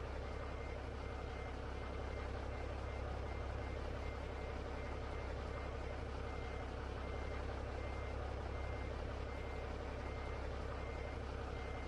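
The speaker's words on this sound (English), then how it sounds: "Who just turned their truck on?" A truck idles with a steady, droning engine hum while reversing beeps repeat, forming one constant, fairly faint mechanical texture with no talking.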